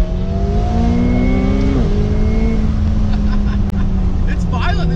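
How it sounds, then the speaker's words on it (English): A Lamborghini Aventador engine roars and revs continuously, its pitch dropping sharply as it downshifts, with a faint voice underneath. "Here comes the Lambo. Gotta wait for the downshift."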